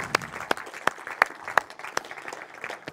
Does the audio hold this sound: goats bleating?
no